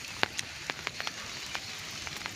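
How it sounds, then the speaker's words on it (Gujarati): Rain falling in a village, a steady wet patter broken by scattered sharp drips and splashes landing close by at irregular moments. "કેવો વરસાદ પડે અમારા ગામમાં"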